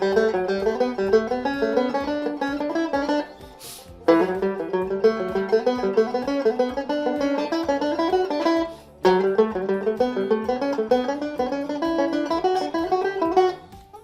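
Banjo picking a repeating nine-note single-string scale exercise, crisp plucked notes in a steady even rhythm, three runs separated by short pauses, played alone and close.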